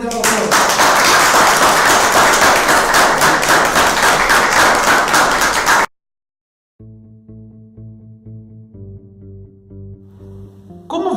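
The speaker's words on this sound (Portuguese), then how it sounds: "Vamos encerrar com uma salva de palmas" A studio audience on a local Brazilian TV afternoon program gives a closing round of applause. The clapping is loud and dense for about six seconds, then cuts to silence, followed by quiet music.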